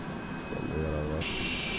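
Jet engines of a PMDG 747-400F freighter in the P3D flight simulator give a steady hiss. A low hum then rises and settles into a sustained engine drone, with a brief higher chirp early on.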